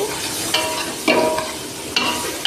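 Onions and cabbage frying in oil for a mung dal and cabbage curry, a loud continuous sizzle with a few sudden louder surges as the vegetables are stirred in the pan.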